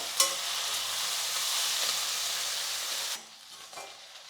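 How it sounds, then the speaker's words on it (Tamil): Chopped vegetables with turmeric sizzle loudly in hot oil in a pan while being cooked for khichdi, a bright frying hiss that cuts off abruptly near the end, leaving quieter stirring noises. "காயெல்லாம் இந்த எண்ணெயிலே வந்து ஒரு ரெண்டு மூணு நிமிஷத்துக்கு வந்து நல்லா வதங்கட்டும்"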